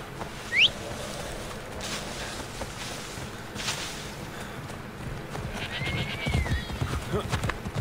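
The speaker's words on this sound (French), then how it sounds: "Le cheval." Horse in the video game Assassin's Creed Odyssey gives a sharp whinny, then hooves clip-clop steadily along with rising ambient game sound and some light footsteps.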